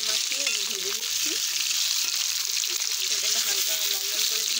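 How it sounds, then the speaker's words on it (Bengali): Boiled new potatoes coated in cornflour fry in a pan of hot oil, giving a steady, close, bright sizzle that holds evenly throughout with faint stirring underneath. "এখন আমি নতুন আলুগুলো, সিদ্ধ করা আলুগুলো একটু কর্নফ্লাওয়ার মাখিয়ে ভেজে নিচ্ছি।"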